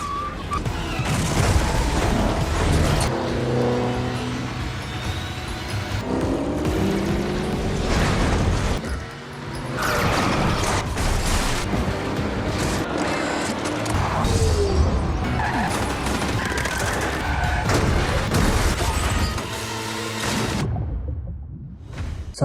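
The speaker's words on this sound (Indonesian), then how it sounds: "seperti biasa aksi kejar-kejaran mobil pun terjadi" A car chase in a Fast & Furious film: roaring engines, tire squeals, whooshes and crash booms follow one another in loud, dense bursts over about twenty seconds, with a near-silent drop at the end.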